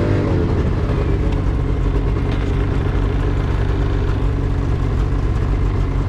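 A new snowmobile engine runs on a night ride in the Tundra, a loud, constant close-up drone with a slightly rough mechanical texture throughout.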